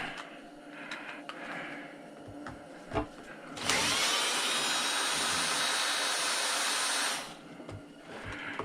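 A power tool whines steadily for about three and a half seconds while backing screws out of a chop saw during a teardown, bracketed by quieter handling clatter and faint shop noise.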